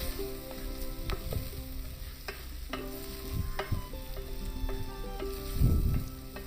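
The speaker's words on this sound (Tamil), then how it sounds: "இப்போ இது எல்லாத்தையும் நல்லா எண்ணெயில் வதக்கி எடுத்துக்கலாம்." Minced mutton with coriander powder and chili powder is sautéed in oil for a keema peas masala, with a steady low sizzle, repeated close scraping stir strokes, and one louder stir near the end.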